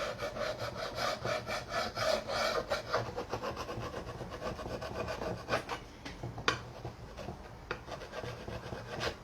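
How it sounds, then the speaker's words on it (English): A blade scraping paint off a painted truck artwork, rapid repeated rasping strokes close up, steady rhythm that thins out and slows toward the end. "So I'm just going to scrape a little bit off just to bring some of those colors out."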